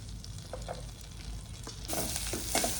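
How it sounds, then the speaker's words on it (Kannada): Garlic frying in butter and oil for creamy butter garlic pasta gives a low hiss that swells into a louder, brighter sizzle partway through, with a few soft stirring scrapes, close by and with no talk. "ಈಗ ಗಾರ್ಲಿಕ್ ಹಾಕ್ತಾ ಇದ್ದೀನಿ ಐ ಮೀನ್ ಅಂದರೆ ಬೆಳ್ಳುಳ್ಳಿ"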